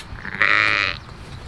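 A sheep gives one loud, drawn-out bleat close by on a highland farm among livestock, lasting under a second over steady outdoor background noise.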